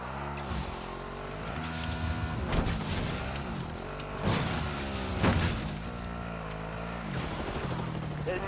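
Engine drone of a vehicle being driven in the battle royale video game Warzone, a steady hum with rising and falling pitch shifts as it accelerates, with some game chatter mixed in.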